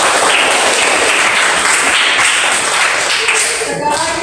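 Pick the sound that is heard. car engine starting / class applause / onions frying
class applause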